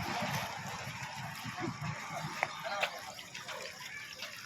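Water gushes steadily from a leaking municipal Amrut scheme pipeline onto a road, a continuous broadband rushing close by with faint voices in the background.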